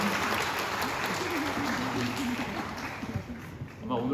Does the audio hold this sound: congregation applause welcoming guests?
yes